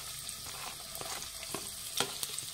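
Finely chopped onions frying in hot oil in a pan for capsicum bath, a steady close sizzle with scattered crackles and soft stirring scrapes throughout.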